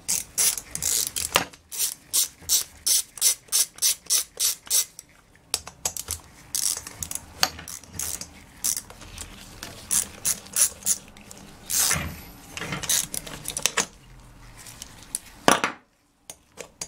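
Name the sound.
ratchet removing Craftsman chainsaw muffler bolts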